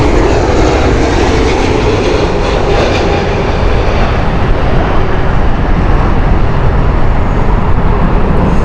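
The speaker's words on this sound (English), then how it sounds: "this one's a special one because it's the Etihad A380" Etihad Airbus A380 engines roar at Heathrow Airport on a windy morning, a loud, steady broadband rumble that holds without a break and builds slightly toward the end, with no voices.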